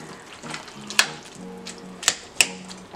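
Sweet and sour chicken cooks in a pan with a steady, soft frying sizzle, broken by three sharp clicks or taps of a utensil against the pan.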